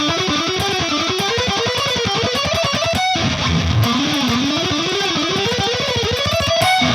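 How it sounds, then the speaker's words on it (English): An electric guitar runs a fast scale sequence, its distorted notes climbing and falling in rapid, even rhythm, loud and up close with a brief break midway and no talking. "let's say you're working on a scale sequence that sounds like this"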